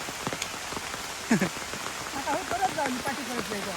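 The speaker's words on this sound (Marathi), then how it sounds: "पाऊस इलो" Rain falls steadily in a forest, a close, even patter of drops on leaves and surfaces, while voices briefly speak underneath toward the end.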